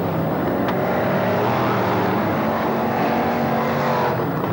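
F1 stock cars race at Belle Vue Stadium in the 1987 World Championship Final, a steady loud roar of several engines blending with a hissing crowd-like wash, with no voices.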